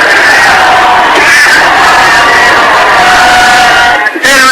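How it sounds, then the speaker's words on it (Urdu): A large crowd at a religious gathering loudly chants salawat in unison, a dense, sustained roar of voices with a brief dip near the end. "اور اب کافی مل گیا نعرہ صلوات."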